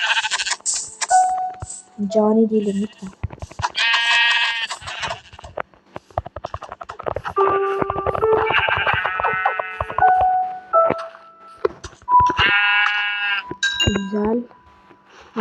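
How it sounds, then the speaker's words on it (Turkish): Sheep in the video game Minecraft bleating in several short nasal calls scattered through the stretch, loud and near, mixed with a person talking. "Koyun da bulduk arkadaşlar."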